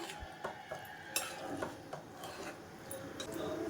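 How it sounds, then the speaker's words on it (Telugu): Chicken curry stirred in a pot with a spoon, light scraping and clinking strokes at an irregular pace, close but quiet. "ఒకసారి బాగా కలుపుదాము."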